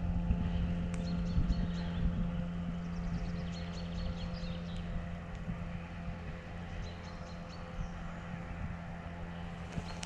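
A red-and-grey motorboat carrying two people drones steadily at a distance on the Vuoksi river, a low continuous hum with wind noise over it and no one speaking.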